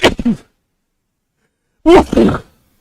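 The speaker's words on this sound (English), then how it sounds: "Let me sneeze." A short, sharp sneeze nearby, then a long silence, then a second forceful sneeze-like burst.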